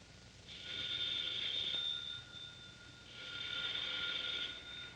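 An old-fashioned telephone bell rings persistently in two long bursts with a short pause between, loud and alone in a quiet room.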